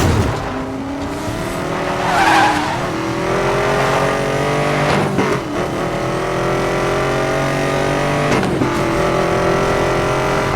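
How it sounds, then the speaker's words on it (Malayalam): A race car in the video game Need for Speed Most Wanted roars along at speed, its engine droning and shifting pitch, with sharp tire squeals and skids breaking in at intervals. "അത്യാവശ്യം നല്ല സ്പീഡും കാര്യങ്ങളുള്ള വണ്ടിയാണ്."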